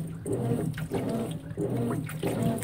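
A Consul 16 kg washing machine agitates a load on a high water level, its motor droning in regular back-and-forth strokes with sloshing water surging about every two-thirds of a second.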